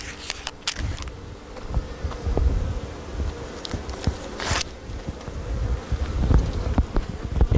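Honeybees buzz around backyard hives set on new stands, a steady outdoor hum with several louder close passes and brief swells, some wind and a faint car in the background.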